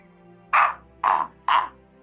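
A crow caws three times in a sound effect, each call a harsh, nasal squawk about half a second apart, loud and close over a faint steady hum.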